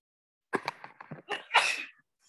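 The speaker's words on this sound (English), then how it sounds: "I sneeze constantly in my house." A single wet, explosive sneeze with a short vocal buildup before the burst, close and loud, followed by quiet.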